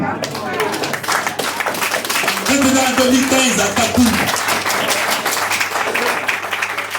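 Audience applause at a French-language training session in Togo, dense clapping that fills the room while someone speaks over it.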